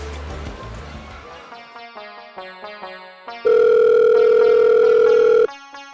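A telephone plays a short ringtone melody of descending notes, followed by a loud steady tone lasting about two seconds, then a few more notes.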